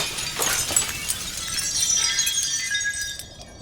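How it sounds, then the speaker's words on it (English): Many mirrors shatter at once in a loud, sustained crash of breaking glass, with bright tinkling shards ringing and clinking for several seconds before dying away; no voices. "And as soon as that happens, all of the mirrors shatter."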